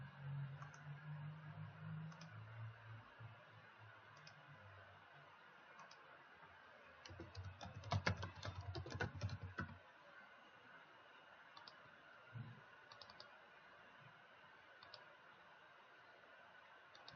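Computer keyboard keystrokes during a key-combination search and paste, a sparse run of light clicks and a denser burst of quick taps in the middle, faint against a steady low background hum.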